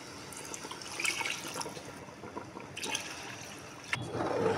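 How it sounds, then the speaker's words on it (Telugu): Water is poured into washed rice in a cooking pot, two glasses of water per glass of rice, giving a continuous splashing, trickling pour close by. "ఇప్పుడు దీంట్లోకి వాటరు, 1 గ్లాస్ బియ్యానికి గాను 2 గ్లాసులు వాటర్ పోసుకుందాం."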